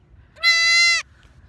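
A farm goat gives a single loud, drawn-out bleat of about half a second, close to the mic, rising abruptly out of quiet low-level rumble and cutting off just as sharply.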